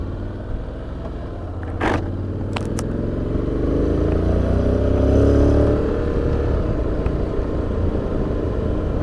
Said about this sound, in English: let's go on a little test ride here with the Honda X-ADV.